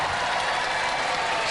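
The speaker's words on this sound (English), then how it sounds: "Ladies and gentlemen, give them a round of applause." A studio crowd at a televised robot combat event claps and cheers in a steady, dense wash of applause that stays even and fairly loud from start to end.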